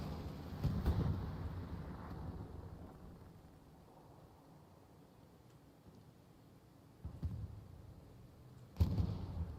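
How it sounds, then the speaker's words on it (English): Artillery blasts in the World War II shooter Hell Let Loose, a heavy boom opening the clip followed by rumbling decay, then further distant thuds and a sharp closing blast. "Big artillery blast"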